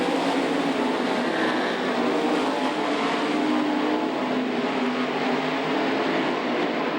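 Race cars roar continuously around the turns at Knoxville Raceway, a dense, steady engine drone heard at a distance and with no voices.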